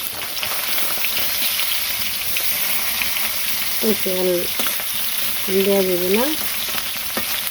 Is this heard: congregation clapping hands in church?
no